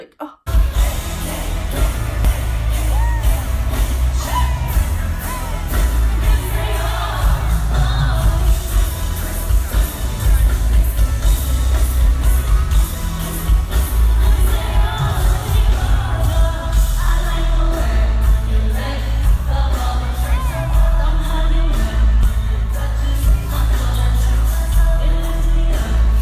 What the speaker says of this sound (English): The crowd was going crazy for that song.